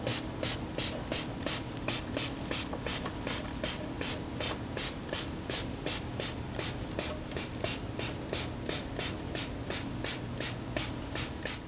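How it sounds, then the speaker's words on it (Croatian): Cleaner sprayed onto the rotating part of an air conditioner gives a long run of short hissing bursts, evenly spaced at a steady rhythm, close and continuous with no talking. "Kako bismo očistili rotirajući deo što bolje, potrebno je da prilikom nanošenje spreja,"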